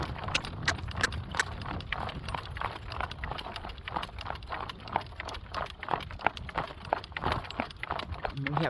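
A driven horse's hooves clip-clop in a steady, brisk rhythm on the ground, close and prominent, with faint jangling of harness or tack and some background noise throughout.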